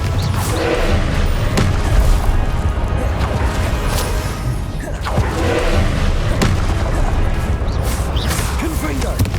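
Explosions from the Confringo blasting spell in Hogwarts Legacy, with repeated heavy booms and crashing impacts through a loud, chaotic duel while voices are heard throughout.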